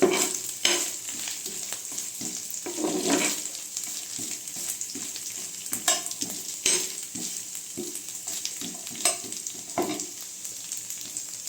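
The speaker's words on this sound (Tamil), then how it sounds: "நல்லா இந்த நெய்யில் பார்த்திங்கன்னா நல்லா பொன்னிறமாக வர அளவுக்கும் தேங்காவை வந்து வறுத்து எடுத்துக்கலாம்" Grated coconut roasting in ghee, a continuous nearby sizzle with repeated scraping and clattering strokes as it is stirred, no voices.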